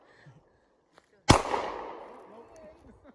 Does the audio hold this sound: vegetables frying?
no